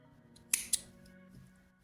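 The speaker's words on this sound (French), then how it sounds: "On vient couper un petit peu de fil." Scissors cutting crochet yarn give two quick, crisp snips close to the microphone, about a fifth of a second apart, in an otherwise quiet room.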